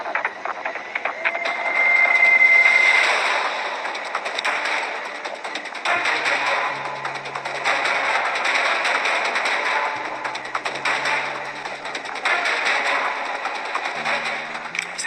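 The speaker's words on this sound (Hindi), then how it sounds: "तभी गोलियां चलने की आवाज आई" Gunfire sound effect plays in a Hindi narrated commando story about an Indian Army soldier, with bursts of shots and thumps over several seconds alongside layered background sound effects, no speech heard.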